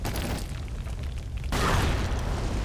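A bomb goes off in the Lara Croft and the Guardian of Light video game, a sustained loud rumbling roar that swells abruptly partway through into a denser, heavier blast wash.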